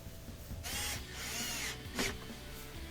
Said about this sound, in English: I'm just going to reinstall them, tighten up those screws